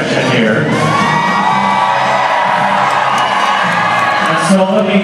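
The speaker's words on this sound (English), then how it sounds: "Serena seems to have the wildest, most passionate cheering section here" A crowd at a live tennis exhibition match whoops and cheers loudly and continuously, with excited shouts and yells rising over the dense noise throughout.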